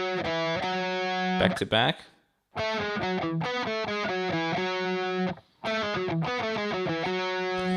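A distorted electric guitar plays a chunk of a solo in fast, sharply picked note runs. It stops briefly, and a short spoken phrase comes in before the playing resumes.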